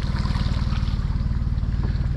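Motor boat engine fitted with a protective ski, running through very shallow water, a loud, steady, close pulsing drone with rushing water and wind noise over it.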